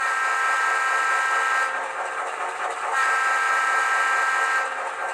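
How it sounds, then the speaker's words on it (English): An HO-scale Rapido SD9/SD10 model locomotive horn on an ESU LokSound decoder blares steadily for about five seconds, a loud sustained chord with brief dips partway through, no voices. "Horn."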